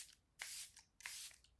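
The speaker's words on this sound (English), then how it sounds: "lastly, I'll put on some of my Charlotte Tilbury setting spray." Charlotte Tilbury setting spray hisses from its bottle in three quick, soft bursts, close by and quiet, each a short breathy spritz.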